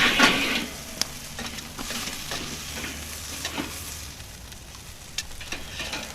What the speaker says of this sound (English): we're still in rare territory, so we can keep searing